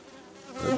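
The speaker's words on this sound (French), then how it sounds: "moi j'ai que des abeilles là" Honey bees swarming an opened Kenyan top-bar hive, a low steady hum that swells into a close, loud buzz near the end, no talking.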